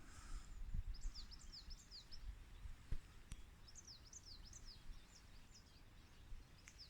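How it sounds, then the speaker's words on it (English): Songbirds twittering outdoors beside a mountain river at the end of January, short bright chirping phrases in two bursts over a soft rushing background, fairly faint and a little distant. "And do you hear all the bird song? End of January."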